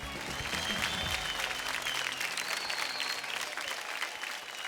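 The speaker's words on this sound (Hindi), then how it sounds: "तालियां इन सबके लिए।" A studio audience on the Indian TV dance competition Dance India Dance claps for the contestant dancers, giving continuous, lively applause at a fairly even level throughout the short stretch.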